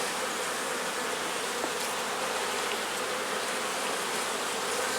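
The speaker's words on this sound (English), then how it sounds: "There's definitely enough bees here to tend for a queen." Honey bees swarm and hum steadily over a hive frame outdoors, a dense, continuous buzz that fills the whole stretch at a constant close level with no talking.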